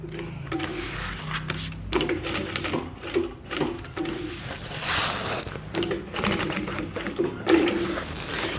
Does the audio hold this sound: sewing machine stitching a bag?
yes